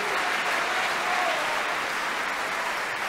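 An opera audience at the Royal Opera House, Covent Garden, applauds a performance of Bellini's La Sonnambula with thick, sustained clapping from a large crowd that stays loud and steady throughout.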